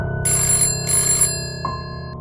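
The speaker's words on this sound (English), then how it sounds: "the phone rang. One single ring. Loud, sharp, like a needle through the quiet." A single sharp electronic telephone ring in two quick bursts, loud and close, then it stops, leaving a faint steady hum.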